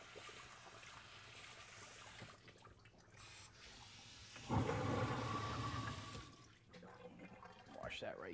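Water from a kitchen sink tap rinses seeds from a halved vegetable down the drain, a steady rush that swells louder midway and runs continuously under faint background sound.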